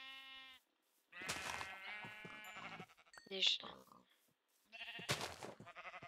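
Sheep bleat in the blocky survival game Minecraft, a harmonic baa near the start and louder overlapping bleats in the middle and at the end, with someone speaking Polish over parts of it.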